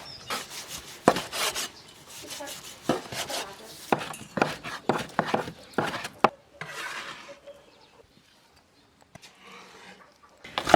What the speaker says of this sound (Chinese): 把腌猪肉剁碎半个馅儿